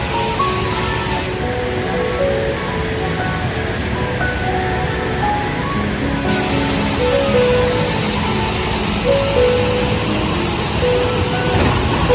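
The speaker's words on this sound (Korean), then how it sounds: "내려가는 길이 없는 게 아니라 기차 지나가려고" A ride train rolls past at the Everland theme park in South Korea, giving a continuous, fairly loud rumbling wash of noise with faint tonal whines over it.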